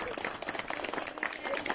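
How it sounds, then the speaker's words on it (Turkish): A crowd claps steadily for Uncle Beşir at a gathering, dense and fairly close, with a few voices mixed in beneath the applause. "Beşir amcanıza bir, önce bir alkış yapalım hepimiz."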